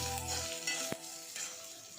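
Chopped onion with cumin, ginger, garlic and curry leaves frying in a pan, soft steady sizzle with a faint stir or scrape, quiet and brief with no voices.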